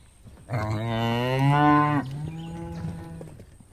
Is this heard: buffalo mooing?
yes